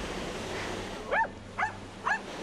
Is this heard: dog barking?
yes